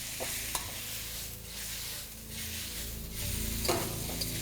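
Chicken stirred in a pan over a medium flame for gravy chowmein: steady scraping and stirring over a continuous close sizzle, with no voices.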